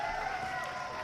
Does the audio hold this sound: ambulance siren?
no